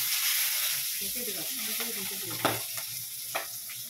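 Fish frying in a hot pan gives a constant loud hissing sizzle with a few sharp pops near the end, while a faint voice is heard briefly underneath.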